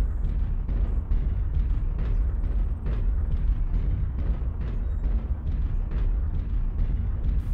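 Repeated heavy booms of airstrike explosions in the mech combat game MechWarrior Online, a dense rumbling barrage of blasts rolling continuously and loudly throughout with no pauses.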